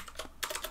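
Fast typing on a computer keyboard while filling in an online form, a close, busy patter of key clicks in quick bursts with no speech.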